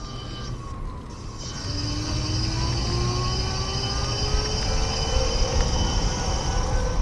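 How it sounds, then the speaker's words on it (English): An electric scooter motor climbs a hill with a steady, rising electric whine, and tonal hums sweep upward under continuous road and wind noise throughout. "I'm gonna just try to power up this thing and see how the motor does"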